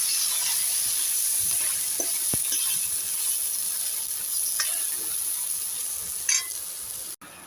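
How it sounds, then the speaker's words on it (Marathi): Grated green mango sautéing in ghee, a steady moderate sizzle with occasional light stirring taps and a brief clink near the end. "ह्याला दोन मिनटं आपल्याला तुपावर परतून घ्यायचं आहे"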